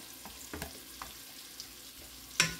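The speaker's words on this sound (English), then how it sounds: "Beef is browning nicely, so we can go ahead and add the onion in." Ground beef and onion frying in a Dutch oven for a tater tot hot dog casserole, a quiet steady sizzle with a few soft spoon taps and one sharper clink near the end.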